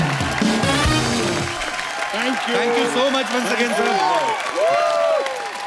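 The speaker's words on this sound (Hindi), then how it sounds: "एक बार सिन्हा परिवार के लिए जोरदार तालियां हो जाएं" A TV comedy show studio audience applauds continuously while someone speaks Hindi over the clapping, with music swelling underneath.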